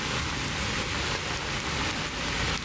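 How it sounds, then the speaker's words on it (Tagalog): Steady rain falling over Manila Bay, a dense continuous hiss heard close and fairly loud throughout with no talk. "Pag umuulan, parang nawala yung init"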